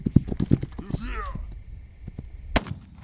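Horse in a video game clip-clopping in quick hoofbeats, followed by a whinny and a sharp loud crack near the end, with a voice talking over parts of it.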